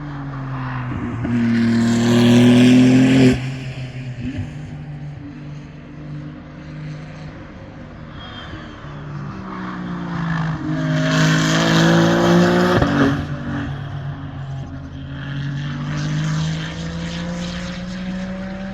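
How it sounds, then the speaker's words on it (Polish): Ferrari 296 Challenge race cars with twin-turbo V6 engines pass on the Brno circuit, loud engine roar swelling and fading in several passes, with shifting tones and no talk. "Odbywały się tam zawody z serii Ferrari Challenge, gdzie kierowcy ścigali się w modelu Ferrari 296 Challenge"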